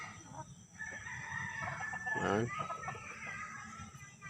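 A rooster crows once, loud and drawn out, amid softer clucking chickens on a spacious rural farm plot, with someone briefly speaking nearby.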